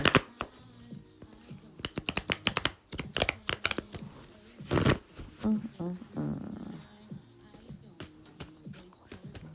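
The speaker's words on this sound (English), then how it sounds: "gonna shuffle a little bit more." Rapid riffling and flicking of playing cards, a crisp burst of shuffles, with light handling noises between; close and fairly quiet.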